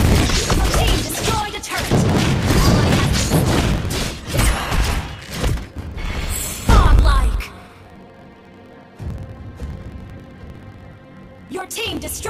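A turret falls in Mobile Legends amid a dense burst of loud crashes, booms and thuds with a voice over the action, then the din drops to a quieter hum before a final sharp hit near the end.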